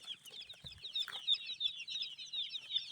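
A cluster of chicks peeps continuously in high, rapid chirps, fairly close, with a few soft thumps in the background.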